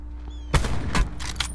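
Gunfire in Call of Duty: Blackout, a battle royale shooter: a few sharp shots crack out after a quiet lead-in, spaced irregularly, moderately loud against a low background hum.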